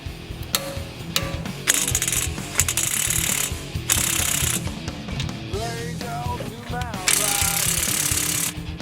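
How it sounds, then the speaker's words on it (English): Wrench torquing a car axle nut to spec during a wheel and brake job, with loud, close ratcheting clicks in several bursts, metallic clanks and whirring in between. "Now the axle nut gets torqued to 229 pound-feet."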